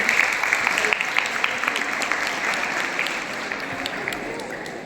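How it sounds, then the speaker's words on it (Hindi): Students at a workshop for the Class 8 selection exam give steady, moderately loud group applause that fades slightly toward the end. "ताली बजा दो।"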